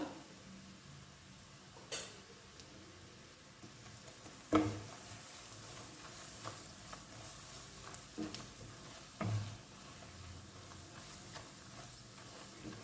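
A spoonful of ginger-garlic paste fries in a pan over a medium flame for paneer bhurji, giving a soft, steady sizzle broken by a few sharp clinks of a spoon stirring against the pan.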